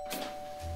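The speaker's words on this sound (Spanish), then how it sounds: "¿Otra vez el timbre?" A doorbell ringing in a house, a quiet steady electronic tone running throughout with a brief rustle near the start and a low thump at the end, no voices.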